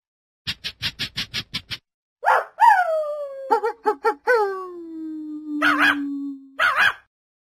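In the Starfall learning app, cartoon dogs give a quick run of about eight even yips, then several howls, one a long sliding wail that fades, and a couple of final barks, clear and close.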